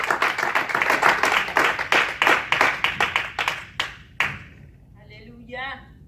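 A church congregation claps together in dense, rhythmic bursts of applause that gradually thin out and stop, followed by a short spoken voice.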